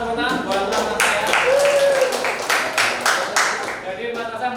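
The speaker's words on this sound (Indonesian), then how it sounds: "tepuk tangan buat Mas Asa ya." A vocational school class in Indonesia claps in a short, uneven burst of hand claps mixed with voices and chatter in the room.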